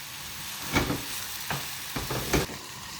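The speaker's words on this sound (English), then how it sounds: "you fry them for about 4 or 5 minutes on each side" Pork roulade frying in a pan, a steady low sizzle with a few brief louder bursts of spitting and pan movement, close and without talk.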